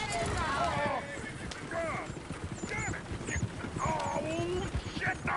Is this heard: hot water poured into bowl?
no